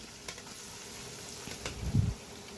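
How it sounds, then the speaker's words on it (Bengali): Salt-rubbed fish pieces hit hot oil in a pan for a yogurt fish curry, producing a soft, continuous sizzle with a louder spitting swell near the end, with no talking. "এই যে মাছগুলো আমি তেলের উপর দিচ্ছি"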